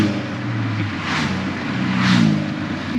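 A tuned Audi S1 quattro drones from the cabin on a rainy Nürburgring run, a steady loud engine hum that swells slightly toward the end.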